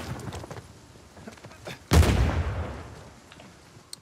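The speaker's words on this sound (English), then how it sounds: "Teammate grenade." A teammate's grenade detonates in an Uncharted 4 multiplayer match: one sharp, loud boom midway that rumbles and fades over about a second, with faint gunfire and scattered noises before and after.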